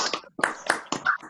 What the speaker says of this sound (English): I think we can all clap hands to Shoshana.